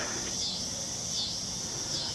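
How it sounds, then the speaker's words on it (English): Cicadas buzz outside a front porch in small-town Nebraska, a dense, continuous high drone that swells and fades slightly, steady and fairly loud with no other sounds. "You can sit out there and sip on coffee, enjoy the cicadas in the background."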